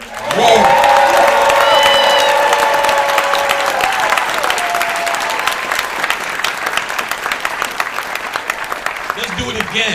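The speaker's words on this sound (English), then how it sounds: "Let's give a roaring round of applause for Brother Rich." A roaring round of applause from an audience at a metaphysical gathering, dense and sustained clapping with cheers, loud and close for nearly ten seconds while a voice speaks over the start and the sound slowly thins toward the end.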